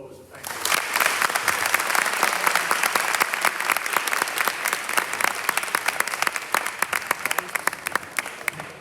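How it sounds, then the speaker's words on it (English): An audience at a business school CEO lecture breaks into warm applause, many hands clapping steadily and fairly close, with some sharp individual claps standing out as it continues and a few voices mixed in. "another warm round of applause"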